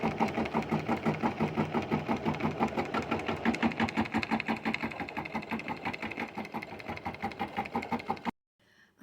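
A sewing machine stitching fabric with a fast, steady mechanical chatter of evenly spaced needle strokes, close and continuous for about eight seconds before cutting off abruptly.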